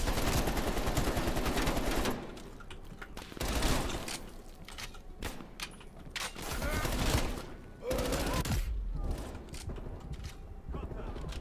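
Gunfire in the video game Call of Duty: Black Ops Cold War, repeated loud bursts and fusillades through the whole stretch, with voices speaking in between.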